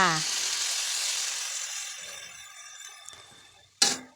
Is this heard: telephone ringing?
no